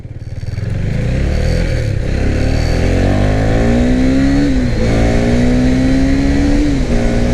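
A 2021 KTM Duke 390 BS6 single-cylinder motorcycle, ridden hard, roars loudly up through the revs with a rising engine whine, a brief dip at a gear shift, then climbs again, close and continuous.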